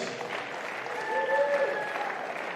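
Audience applause for the referee at a Squash Eredivisie match, Frans Otten Stadion, a steady moderate wash of clapping throughout with a few faint tonal squeaks over it.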